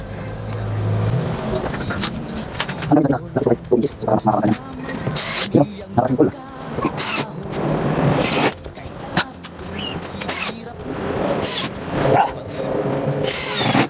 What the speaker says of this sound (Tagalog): nabutasan na natin para sa ulo ng screw, at lalagyan na natin ng black screw